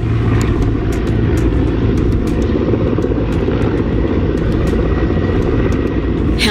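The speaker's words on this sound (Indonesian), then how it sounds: "Helikopter waterbombing dikerahkan untuk memadamkan kebakaran hutan dan lahan di Kabupaten Rokan Hulu dan Rokan Hilir Riau." A water-bombing helicopter fighting forest fires in Riau, Indonesia roars loudly and steadily overhead, its engine and rotor drone filling the air without pause.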